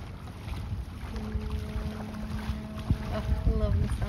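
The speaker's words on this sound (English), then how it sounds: "Oh, I love the sound of that boat" A motorboat hums offshore at a beach, its engine drone rising in pitch and growing clearer over gusty wind buffeting and distant surf, with people talking nearby.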